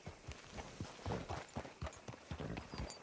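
Horse hooves clop in a steady, uneven rhythm on hard ground, moderately close and fairly quiet.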